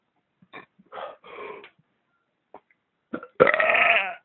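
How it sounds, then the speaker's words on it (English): A man lets out a single loud, drawn-out belch near the mic after a few short, quieter throat noises and a brief pause. "excessive burping can cause"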